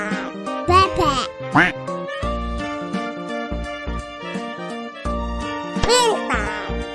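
An animated cartoon duck quacks in several bright, nasal bursts over a cheerful tinkling tune, with a child-like voice speaking in between.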